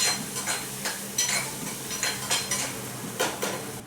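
Onion sautéing in a pan for potato stick samosa filling, with steady sizzling and repeated scraping strokes of a spatula against the pan at a regular rhythm, close and fairly loud.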